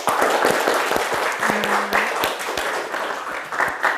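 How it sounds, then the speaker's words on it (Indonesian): Classroom applause from students after a group presentation during a teaching practice lesson, steady dense clapping throughout with a brief tonal hum in the middle. "Coba sekali lagi tepuk tangan untuk kalian semua"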